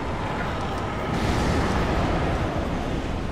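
An explosion in the video game Dark Souls 3, a dense roaring broadband rumble that swells slightly midway and sustains loudly for several seconds.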